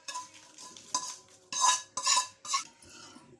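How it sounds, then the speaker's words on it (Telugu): A spoon stirs fried tempering and peanuts into tamarind rice in a pan, a handful of short scraping, clinking strokes in an irregular rhythm, close and fairly quiet, no talking. "ఈ తాలింపు మొత్తం వేసేసుకుంటున్నా."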